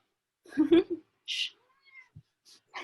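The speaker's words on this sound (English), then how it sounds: "my cat's taking over the meowing shift" A cat meows a few times, with short pauses between the calls, up close and clearly heard. No voices are present.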